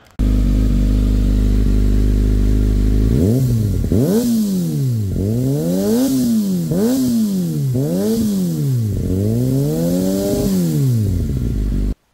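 A Kawasaki Ninja ZX6R sport motorcycle with a de-catted aftermarket exhaust idles, then revs up and down repeatedly in a rhythmic series of throaty bursts, loud and close with a raspy exhaust note.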